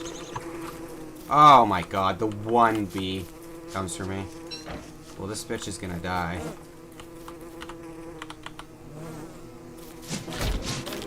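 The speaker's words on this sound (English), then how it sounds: "Oh my god, the one bee comes for me" Bee buzzing in the video game Don't Starve, a droning insect hum with rising and falling tones that comes and goes while someone talks over it.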